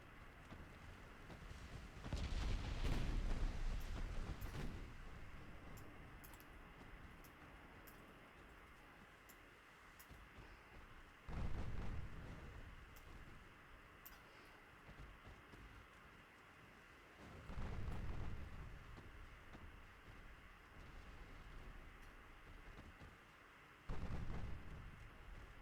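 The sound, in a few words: 8-inch heavy cruiser gunfire in Ultimate Admiral Dreadnoughts video game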